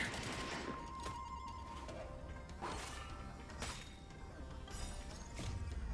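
Gunfire and clashing impacts during a Honkai Star Rail battle, several sharp bursts and swishing effects spread over a dense, busy game soundtrack at fairly low level.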